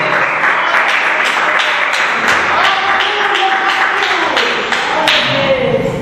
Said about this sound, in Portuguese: pode exaltar ao nosso Deus com as palmas bem fortes para Jesus